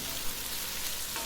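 Onions sautéing in a pan for a gravy: a short, even hiss of frying with a faint stir near the end, steady and moderately quiet, with no talk.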